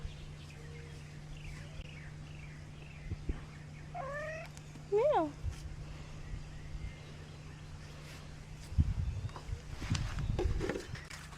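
A cat meows outdoors on a farm, several short rising-falling meows around the middle over a steady low hum, with birds chirping faintly and some rustling near the end.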